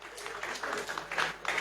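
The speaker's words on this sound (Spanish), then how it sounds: "Un fuerte aplauso" Applause from an audience at a book presentation, a steady crowd clapping that swells toward the end, moderately distant and without speech over it.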